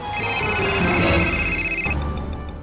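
A steady electronic phone ring with bright, sustained tones cuts off abruptly near the end, followed by a quieter background hum.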